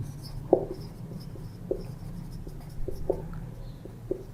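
Marker strokes on a board during an accounting lecture land as short scratchy taps in an uneven rhythm, several separate marks close by over a low room hum, with no talking.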